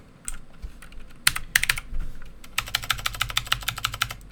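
Rapid clattering keystrokes on a computer keyboard, a few scattered taps at first, then a dense burst of close, crisp clicks.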